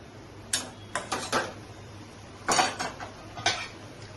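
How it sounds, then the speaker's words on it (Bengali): Metal cooking pot lid handled over a pot of chicken and chickpea dal curry, a handful of close sharp clinks and rattles in two short bursts, with no voices. "আমি ঢাকাটা এভাবে তুলে নিলাম"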